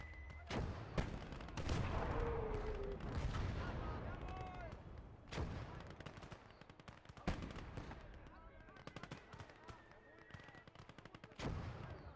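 Bursts of machine gun fire from a tank video game battle, loud and close, rapid rattling volleys with short pauses and heavy booms between them across the whole stretch.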